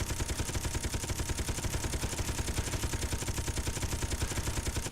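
Rapid, steady gunfire strikes large ship blocks in the Space Engineers video game, a loud, dense stream of shots with no pauses and no talk.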